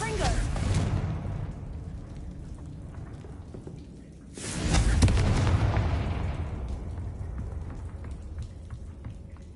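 A Confringo spell blast in Hogwarts Legacy, heard as a loud burst. The clip opens mid-blast, that sound fades, and a second strong explosive boom hits about halfway through, then rumbles down slowly.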